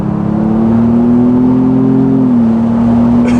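A 2021 Ford Bronco Wildtrak in sport mode climbs a hill, its engine droning loud and steady from inside the cabin, pitch rising gradually, dipping briefly at a shift, then pulling on.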